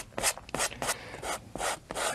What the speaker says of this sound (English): Now, scrape off all the excess paint.